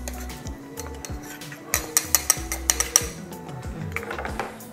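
Mango pachadi ingredients, green chillies, salt and turmeric, being stirred together in a metal vessel, giving a run of sharp clinks and scrapes of a spoon against the pot, loudest in a quick cluster midway.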